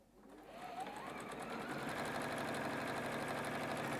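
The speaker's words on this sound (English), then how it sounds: "So now we're sewing together the big bank of rows that we've created." A sewing machine starts up and builds to a fast, steady whirring rhythm while stitching rows of a Star Gazer quilt together, close and continuous.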